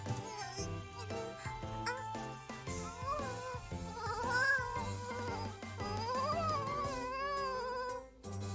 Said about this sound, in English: That is a really strange purr.